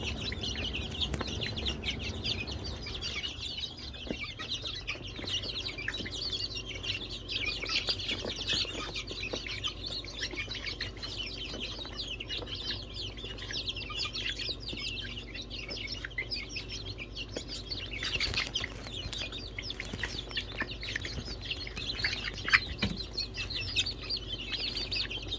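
Thai chickens clucking steadily at close range, with overlapping hen chatter and occasional chirps over a constant low farmyard hum, and no talking.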